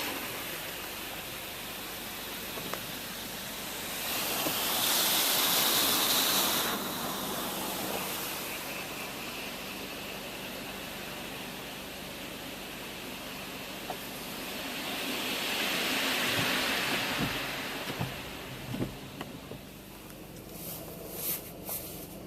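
Pre-soak spray hisses steadily through an automatic car wash, with two louder rushing swells as the closer arm sweeps past, then faint clattering near the end.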